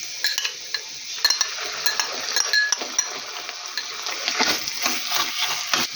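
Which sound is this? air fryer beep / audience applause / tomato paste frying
tomato paste frying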